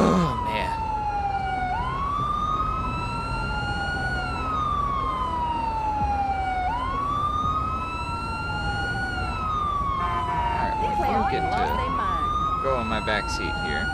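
Police car siren wailing in a steady repeating up-and-down sweep, loud and continuous over road noise, with a burst of other sound near the end.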